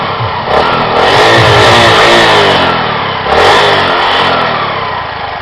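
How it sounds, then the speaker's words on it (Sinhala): A vehicle engine running on a substitute for petrol is started and revved hard, loud and close, with two distinct surges in pitch separated by a brief dip, then settling to a rough high idle. "චුට්ටක් ස්ටාර්ට් කළා මම රේස් කරන්නම් මේ වාහනේ යනකම්"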